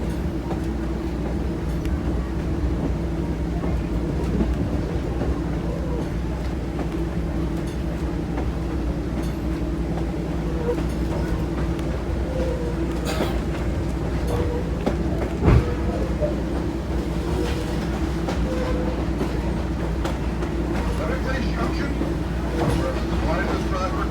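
A Strasburg Railroad train runs along the former Pennsylvania Railroad line with a loud, steady low rumble and droning hum throughout, marked by an occasional faint knock.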